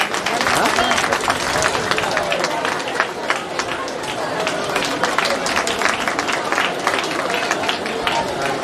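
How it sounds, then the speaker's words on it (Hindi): Loud, dense applause fills a Teacher's Day program hall in Titagarh Bansbagan, a guest being welcomed as the crowd claps steadily throughout with busy chatter mixed in. "जोरदार तालियों के साथ इनका स्वागत किया जाए।"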